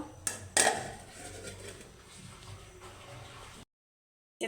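A couple of sharp metallic clanks as a lid is set onto a pot of vegetable kabsa with added water, followed by quiet handling noise.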